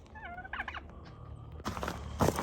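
Young backyard turkeys give a few warbling, gobble-like calls at close range, followed by louder bursts of fowl noise near the end.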